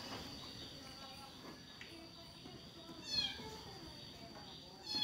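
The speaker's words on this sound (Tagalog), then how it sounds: "May nagtapon ngayon ng pusa sa amin." A cat meows a few times nearby, in short cries that rise over a steady background of insect chirping and faint room noise.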